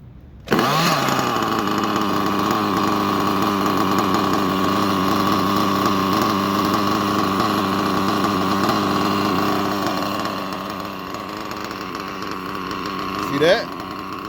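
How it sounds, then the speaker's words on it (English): A budget nitro engine on an RC model idles steadily with a buzzing, even drone, running rough from low compression and a worn head after roughly ten tanks. It sounds close and loud throughout, with a brief rev near the end. "See how it's idling? Low compression."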